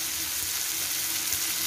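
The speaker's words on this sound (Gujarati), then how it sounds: "આપણે મસાલા બધા શેકી લેશું સરખી રીતના." Ground spices, turmeric, coriander-cumin and red chilli powder with a splash of water, sizzle in a pan for paneer bhurji, a soft, even crackling hiss heard close and alone throughout.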